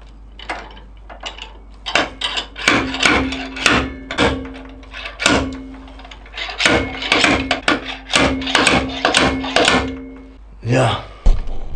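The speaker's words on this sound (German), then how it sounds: "Und das machen wir mit einem fliegenden Hammer." A slide hammer repeatedly slams while pulling a bearing from a quad gearbox, delivering sharp metallic knocks with ringing overtones in irregular bursts, close and loud, with a brief pause before a final heavier clank.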